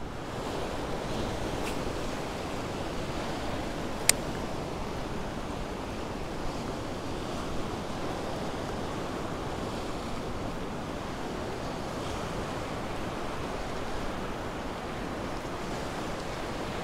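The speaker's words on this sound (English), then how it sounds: "The surf is not really coming across and hitting it." Steady ocean surf at the Galveston South Jetty washes in continuously under light wind noise, a constant broadband rush with one faint sharp click and no talking.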